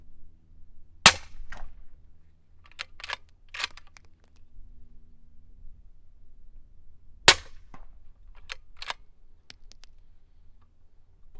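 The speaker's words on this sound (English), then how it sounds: "That factory ammo is oddly poppy, like I mentioned before in one of my other videos shooting this thing." A suppressed 300 Blackout rifle firing factory-loaded ammunition through a large-diameter can gives two sharp, poppy reports several seconds apart, each followed by faint metallic clinks in a quiet outdoor setting.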